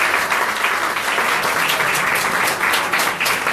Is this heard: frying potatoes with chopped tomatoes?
no